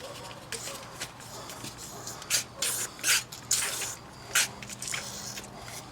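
A hand pump pushing transmission fluid through a tube into the fill hole of a Cadillac STS, a few separate squishy strokes with short bursts of liquid noise, close and quiet over low background hum.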